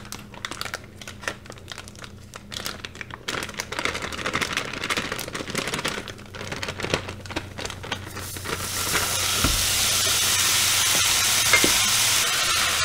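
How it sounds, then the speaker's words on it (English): Ground beef frying in a skillet for beef and cheese enchiladas, crackling and stirring scrapes at first, then a steady loud sizzle building near the end, with no talk. "I'm just going to put the ground beef into the skillet."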